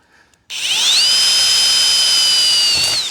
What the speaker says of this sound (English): I got to make sure I'm a little more careful with the drill bit because I ain't got too many more this size